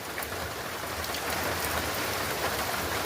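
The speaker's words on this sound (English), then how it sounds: "Downpour sucks." Heavy rain pours steadily onto a hiking trail along the Appalachian Trail, a dense, constant hiss of drops hitting the ground and foliage close by, with no voices.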